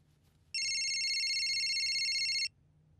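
A telephone rings with a steady electronic tone that holds for about two seconds. It comes through loud and clear over a quiet low hum, in a Bollywood film scene.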